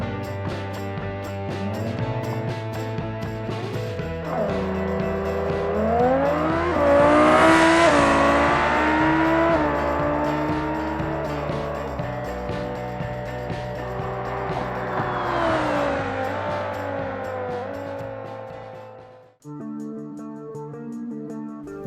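A Civetta Scintilla racing car in BeamNG makes a full-throttle drag run, its loud engine screaming up through the gears with two big rising sweeps, then cutting out abruptly before a brief steady idle.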